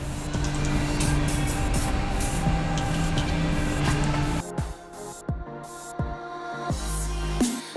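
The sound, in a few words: spraying penetrating lubricant on a car drain bolt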